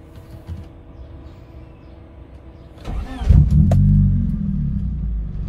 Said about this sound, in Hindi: अब हम जो है गाड़ी स्टार्ट करते हैं आपके सामने ही।